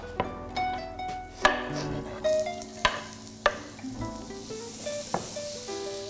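Sliced onion and coarsely grated carrot fry together in a pan, a soft steady sizzle broken by a run of sharp scraping stirs and clatters of a utensil against the pan, close and with no voices.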